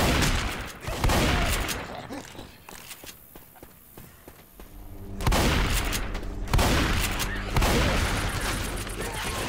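Gunfire in Left 4 Dead 2 comes in loud bursts of rapid shots, drops to a quieter stretch with footsteps and scattered sounds, then erupts again in heavy sustained firing, with some voice faintly present.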